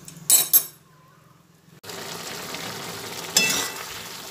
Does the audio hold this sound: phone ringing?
no